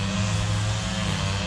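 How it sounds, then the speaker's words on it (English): A lawn mower cuts grass nearby, a steady droning engine hum with a low, even tone, holding constant and moderately loud throughout. "Sorry about the noise, guys, but I decided to come in and he decides to cut the grass"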